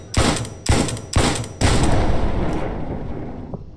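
Gunfire in Brick Rigs: four loud, sharp shots in quick succession, the last followed by a long rumbling decay that fades out over a couple of seconds.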